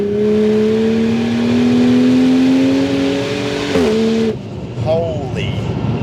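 Turbocharged Ford Falcon XR6 with a screamer pipe, tuned to about 450 kW, revs hard and loud up through the range, its pitch climbing steadily before an abrupt shift and drop, with a voice speaking over the engine.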